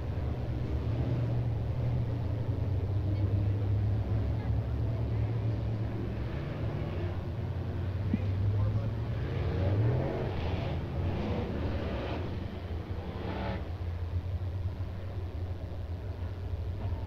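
Race cars rolling around the Talladega Short Track during the 2024 Ice Bowl B-Mains, engines droning and rising in pitch as they pass at a moderate distance, with faint talk in the background.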